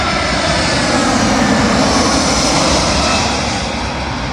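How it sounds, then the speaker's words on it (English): Air France Airbus A320 jet arriving from Paris Charles de Gaulle and landing on runway 27L at London Heathrow, its broadband engine roar loud, close and steady throughout with no voices. "Arriving in now is an Air France A320 from Charles de Gaulle to London Heathrow"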